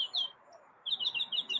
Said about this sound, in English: Chirpy is a mockingbird.